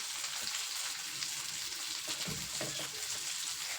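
Bitter gourd sautés in a pan with tomatoes, turmeric, coriander powder and chili, making a faint, continuous low sizzle with occasional stirring scrapes and no talking.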